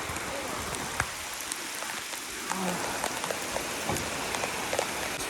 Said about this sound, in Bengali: অনেক দিন পরে এরকম বৃষ্টি হয়নি